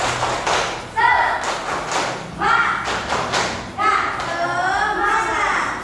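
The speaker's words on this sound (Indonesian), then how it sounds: "Tepuk semangat." A classroom of young children performs a rhythmic clapping chant led by their teacher, with bursts of claps and thuds marking a beat between energetic chanted voices, loud and close.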